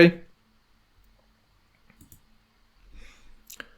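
A computer mouse clicks the OK button in the DIADesigner programming software: one short, sharp click near the end, after a faint noise at the start and a few soft, quiet rustles.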